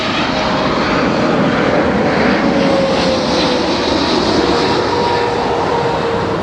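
A fixed-wing airplane flies low over the area right next to an airport, a loud, steady engine roar that fills the whole stretch with a slowly falling pitch and no voices.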